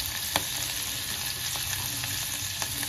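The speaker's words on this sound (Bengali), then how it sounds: "রসুন কুচি দিয়ে দেবো, আর এটাকে একটুখানি ভাজা ভাজা করে নেবো" Chopped garlic sizzles in hot ghee while dal is being made, a steady close frying hiss with a few faint clicks of stirring.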